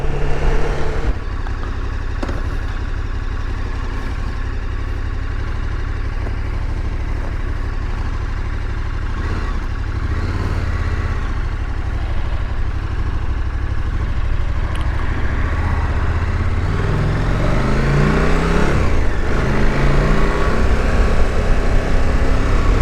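A 2023 KTM 1290 Super Adventure S motorcycle rolls along on a demo ride, its engine a steady close drone under wind rush, with rising and falling pitch sweeps as it accelerates and shifts toward the end.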